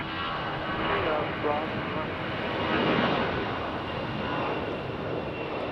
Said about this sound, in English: So that A319 getting a move on